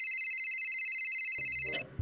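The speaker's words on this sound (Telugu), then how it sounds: "ఫోన్ వచ్చింది, నేను ఇప్పుడే వచ్చేస్తాను." A phone ringtone plays as a steady electronic tone, loud and close, then cuts off abruptly near the end amid brief rustling handling noise.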